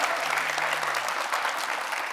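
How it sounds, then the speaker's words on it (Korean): Studio audience at a televised New Year's town-hall broadcast breaks into steady applause, a dense continuous clatter of many hands filling the room for the full stretch, with a faint low hum briefly underneath. "박수 부탁드릴게요"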